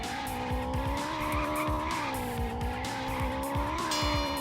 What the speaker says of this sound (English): The little growl as the engine is fucking perfect.